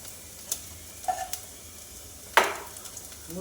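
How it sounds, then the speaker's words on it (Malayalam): Urad dal is tipped into hot oil with fried ginger, giving soft sizzling with a few light stirring taps and one sharper, louder crackle partway through, all fairly faint and close. "ഉഴുന്നിട്ട് കൊടുക്കാം."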